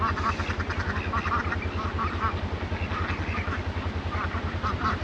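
Ducks quack loudly and continuously at a pond, several birds overlapping close by, over a steady low mechanical rumble.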